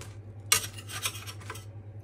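Cutlery scrapes and taps on a plate while cutting freshly baked fish fingers, a few short, close clinks and scratchy strokes over a quiet low hum.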